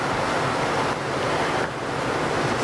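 Ocean surf washing onto the shore at Walmadan, a steady loud broadband roar with wind buffeting the microphone, no voices.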